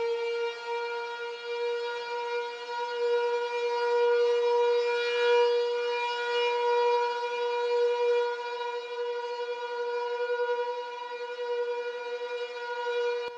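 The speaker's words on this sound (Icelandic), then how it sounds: "það verið að prófa þarna viðvörunar kerfi" A civil defense warning siren being tested in Grindavík, Iceland, wails steadily, a sustained harmonic tone that swells and fades slightly as it rotates, heard alone at a distance.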